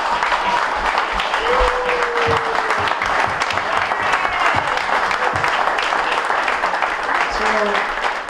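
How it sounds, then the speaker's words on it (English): A crowd claps steadily and loudly throughout, a sustained wave of applause with a few voices calling out over it. "let's all give a round of applause for Tyler."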